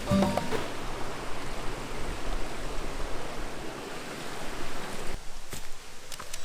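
Steady rushing water from a cascade on Pine Meadow Brook in Harriman State Park, New York, a continuous broadband roar heard close and alone, with a brief change in texture near the end.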